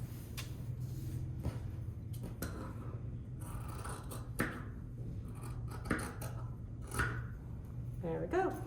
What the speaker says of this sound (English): now I'm gonna cut the excess away on that seam allowance line that I just drew